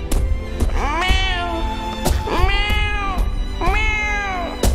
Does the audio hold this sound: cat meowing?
yes